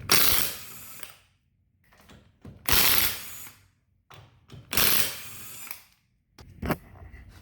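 A hand ratchet works on the axle nuts of a K-swapped Honda EG hatchback in a garage, three loud bursts of clicking mechanical ratcheting separated by quieter pauses and small clanks.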